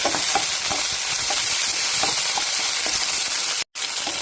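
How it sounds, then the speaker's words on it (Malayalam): Tomatoes sauté in a hot pan for rasam, giving a constant close hiss and sizzle with faint soft stirring taps, briefly cut off near the end. "തക്കാളി നല്ലതുപോലെ ഒന്ന് വഴന്നു വന്നിട്ടുണ്ട്."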